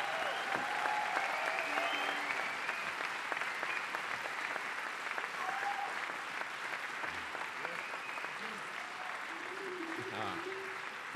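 Dense audience applause at a live bluegrass concert, a sustained wash of many hands clapping with a few faint cheers and some talk underneath.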